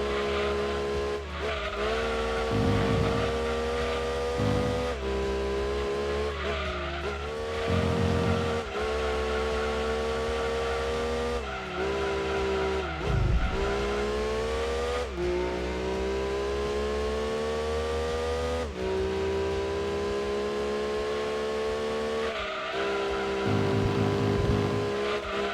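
Mid-engine race cars roaring through Gran Turismo 2 on the PlayStation, engines revving and shifting continuously at high pitch, with brief tire squeals in the corners, loud and steady with no talking.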